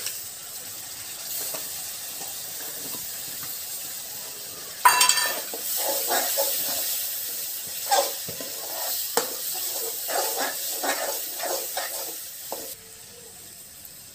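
Tomatoes drop into a hot pan of oil with turmeric for a potato bhungla mix, setting off a loud burst of sizzling that settles into steady frying hiss with stirring scrapes, no talk.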